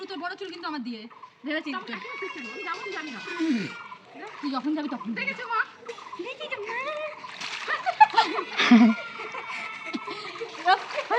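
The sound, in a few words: water splashing while bathing a child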